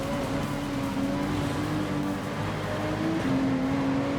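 A Ferrari in Gran Turismo 7 drives through wet conditions, its engine a steady droning whine that rises slightly in pitch over a constant hiss of spray and road noise.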